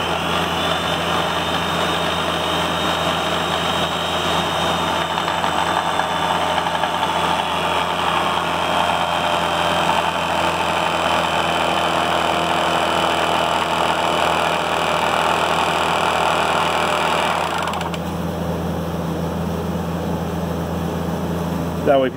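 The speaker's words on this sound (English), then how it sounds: "we're going to crush them in a hydraulic press" A hydraulic press crushing counterfeit gold coins, with a loud continuous motor and hydraulic whine that slowly falls in pitch under load, then cuts off sharply near the end.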